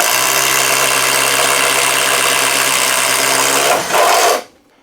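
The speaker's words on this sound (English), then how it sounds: "now a single hole with the Bosch Daredevil, the 1-inch Bosch Daredevil" Flex impact driver boring a single hole with a 1-inch Bosch Daredevil spade bit, a loud continuous buzzing, hammering whir that holds steady, surges briefly near the end, then cuts off.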